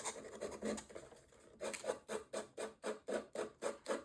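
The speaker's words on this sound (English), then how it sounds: "I can go ahead and use my nail file or sandpaper" A nail file or sandpaper rasps against paper edges in quick, regular back-and-forth strokes, close and fairly quiet, first in a loose cluster and then in an even rhythm.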